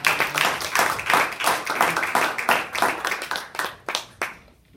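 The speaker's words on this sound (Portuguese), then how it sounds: "Você pode dar uma salva de palmas." A church congregation breaks into a burst of hand clapping, a dense crowd of claps with loose rhythm and close, lively sound, tapering off to scattered final claps and quiet at the end.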